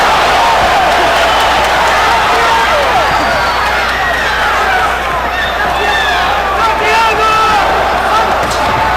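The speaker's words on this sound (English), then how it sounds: "There's a lot of cheering and excitement in the arena" Dense crowd noise fills a boxing arena during a Floyd Mayweather versus Victoriano Sosa fight, a loud continuous roar of cheering and hubbub that never lets up.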